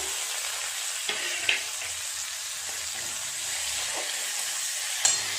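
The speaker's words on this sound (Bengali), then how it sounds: "এর সাথে দিয়ে দেব কেটে ধুয়ে রাখা কচুর লতিগুলো খুব ভালো করে একটু নেড়ে চেড়ে ভেজে নেবে" Taro stolons stir-frying in a pan with green chilli and tomato, a steady low sizzle of oil carrying on throughout, broken by a few faint clinks and scrapes of a spatula.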